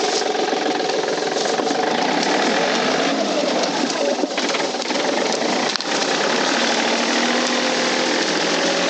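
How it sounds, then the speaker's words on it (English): A truck engine idles in a steady, loud, unbroken drone with a buzzing, rattly texture, with a bird cooing faintly under it and no voices. "truck idling?"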